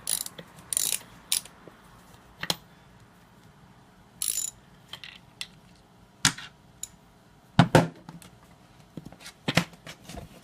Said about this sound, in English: No shortcuts, I just use a full-size ratchet for that.